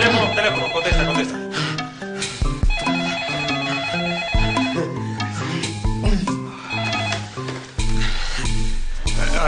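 A telephone rings with a repeating electronic melody, loud and close, sounding continuously over layered musical tones.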